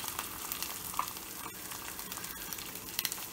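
Eggs frying in a new cast iron skillet, a continuous close crackling sizzle with small pops and spatters throughout, quiet and steady for a few seconds with no voices.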